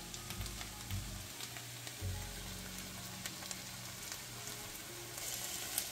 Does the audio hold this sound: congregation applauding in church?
no